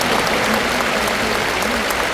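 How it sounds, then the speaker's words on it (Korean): A large church assembly at the 45th anniversary celebration of the Baekseok general assembly claps in a full, even wash of applause that holds steady throughout, with a faint murmur of voices underneath. "이쯤 되면 박수가 한번 나오면 될 것 같은데요."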